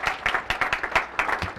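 Audience at a letter of intent signing day clapping in a steady, dense round of applause, fairly close and loud, with no voices over it.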